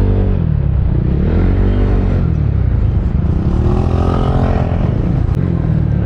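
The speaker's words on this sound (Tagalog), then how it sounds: "Kaya lang ang lakas ng tunog ng exhaust," A Yamaha Aerox 155 Superstock scooter's loud exhaust roars continuously while riding, the engine note swelling and dipping in pitch as it accelerates and eases off, close and dominant with road rumble underneath.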